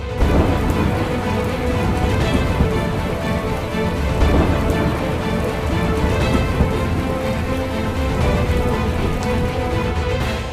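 Heavy monsoon downpour pounds Mumbai, a dense, steady roar of rain that stays loud and even from start to finish, with no voices.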